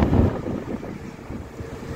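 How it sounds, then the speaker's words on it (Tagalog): Strong wind buffets the microphone in a steady low roar, loud and gusty throughout with no voices, at Marina Gate, The Pearl, Doha, Qatar. "Malakas na hangin"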